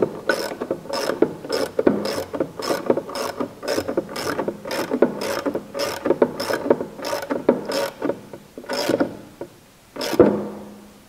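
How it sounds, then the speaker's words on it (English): A short ratchet tightens a 1/4-inch bolt on leaf springs, giving a close series of rapid rhythmic clicks in repeated strokes with brief pauses. "Tighten that up. Doesn't need to be massively tight, that's why I'm only using a short ratchet"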